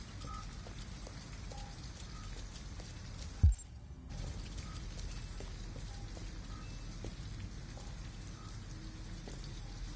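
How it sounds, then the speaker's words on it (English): Steady rain from the video game Detroit: Become Human, a soft continuous patter with scattered drops, plus one brief sharp thud near the start; quiet and even, with no talking. "At least we'd be out of the rain."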